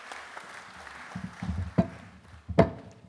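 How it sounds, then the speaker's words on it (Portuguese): An awards gala audience (Mirpuri Foundation Awards Gala, 2022) gives a translator a brief, scattered round of hand applause at moderate distance, with a couple of sharper claps standing out near the end. "Um aplauso para o tradutor também."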